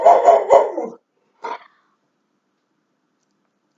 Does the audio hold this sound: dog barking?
yes